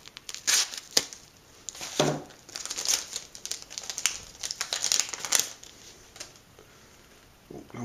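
Crinkling plastic wrapping on a package being opened: irregular bursts of crumpling and tearing, close and crisp, with short pauses between handfuls of rustling.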